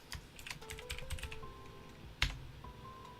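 Keys clatter in quick, irregular bursts on a computer keyboard, then a louder single keystroke after a pause, with a faint steady tone running underneath.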